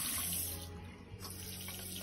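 Water pours steadily from a tap into the sink of a small guard shack restroom, a close, continuous splashing rush with a slight shift in flow midway.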